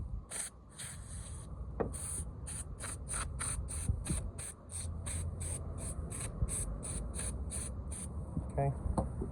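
Cleaner sprayed in rapid repeated short bursts onto the differential cover bolts of a 2007 Ford Mustang V6, a quick run of sharp hissing pumps in a garage, close and crisp, ending in a brief rustle.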